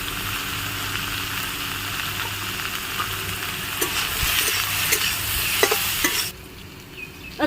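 Boiled jackfruit frying in oil with turmeric and salt makes a loud, continuous sizzle with scattered scraping stirs, then drops suddenly to a quieter hiss near the end.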